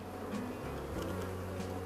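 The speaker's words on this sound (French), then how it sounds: "Les abeilles sont calmes" Calm honeybees on a brood frame at a hive after a cold snap give a soft, steady buzzing hum, close and faint, with no talk.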